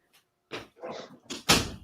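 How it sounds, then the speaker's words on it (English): A door swings shut with a few soft rustling bumps, then a firm, loud closing thud near the end of the short, close-up stretch. "I'm going to close this door."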